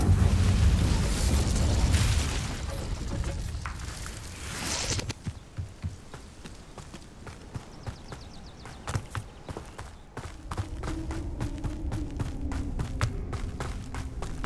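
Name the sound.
Incendio fire spell explosion in video game Hogwarts Legacy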